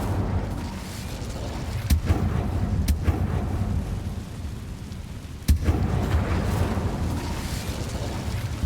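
A fire spell cast in the Hogwarts Legacy video game: a dense, roaring fiery rush with sharp bursts near the start and midway, steady and fairly loud throughout.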